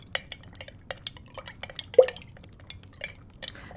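A liquid potion is stirred with scattered drips, soft taps and small splashes, one louder clink near the middle, close and quiet with no talking.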